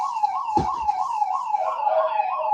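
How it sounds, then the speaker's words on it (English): A house alarm going off indoors, a loud, continuous warbling electronic siren that rises and falls steadily, with a brief thump partway through. "My wife must set the alarm."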